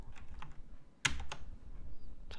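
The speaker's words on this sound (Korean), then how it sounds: "좀 천천히 타이핑 할 테니까 여러분도 같이 타이핑해서 실행 결과를 확인해 보세요" Keys clatter on a computer keyboard during an Oracle SQL coding lesson, a short burst of close clicks with one sharp louder keystroke near the middle, no talking.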